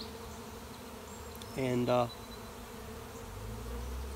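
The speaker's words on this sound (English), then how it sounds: "this is a lot of bees that's got to eat" A late-season honey bee swarm produces a steady, diffuse buzzing drone at moderate volume throughout, with a short spoken word near the middle.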